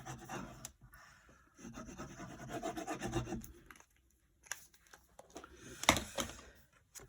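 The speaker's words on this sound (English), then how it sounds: "So I've smoothed out that little crease" Glued card is rubbed flat by hand to smooth out a crease, with bursts of close, dry scraping and rasping, brief pauses between strokes and a sharper scuff near the end.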